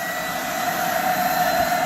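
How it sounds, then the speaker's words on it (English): A vacuum pressed down into car carpet during upholstery cleaning gives a steady, loud, close suction whine with a constant high tone that holds unbroken throughout. "just try to get that vacuum up in there"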